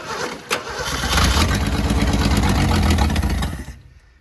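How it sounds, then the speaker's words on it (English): A junkyard Ford Falcon engine, primed with a shot of brake cleaner, cranks and fires up, catching after a brief crank and running roughly for a few seconds before cutting off, close and loud. "so I'm gonna give her a shot of brake clean, which may not be a great idea, but we're gonna see if we can get her to fire off"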